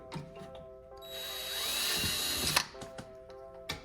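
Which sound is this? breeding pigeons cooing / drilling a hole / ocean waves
drilling a hole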